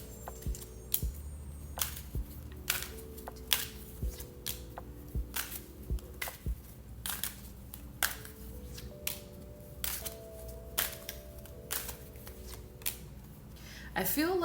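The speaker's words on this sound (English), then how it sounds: "let me draw a couple more cards." Tarot cards are shuffled close by in repeated crisp riffles and taps over soft background music, with a voice speaking between the shuffles.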